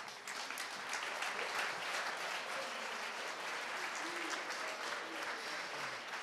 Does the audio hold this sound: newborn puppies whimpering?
no